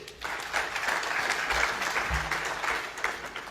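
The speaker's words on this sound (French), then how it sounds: "Merci de les applaudir, s'il vous plaît." An audience at a formal political ceremony applauds, a sustained, even wash of many hands clapping at moderate distance, with faint low thumps beneath.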